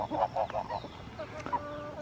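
Chickens cluck softly nearby, a quick run of low clucks followed by a few scattered calls and quiet background chirps.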